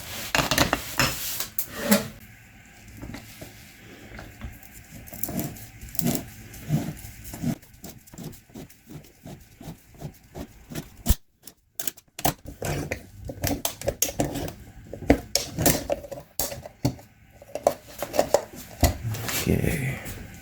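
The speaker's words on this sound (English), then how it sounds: "let's open this filter up," A used Napa Platinum 47899 oil filter being cut open, giving a run of close, sharp metallic clicks and scraping cuts in uneven bursts, with a brief quiet gap midway before the cutting resumes.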